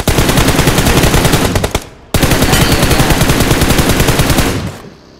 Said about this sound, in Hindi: फायर कर भाई।